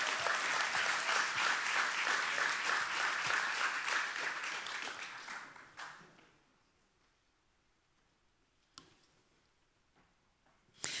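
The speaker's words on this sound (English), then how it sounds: "Can I get a round of applause, please?" A conference audience applauding speakers welcomed onto the stage: dense clapping for about five seconds, tapering off into near silence with a couple of isolated clicks afterward.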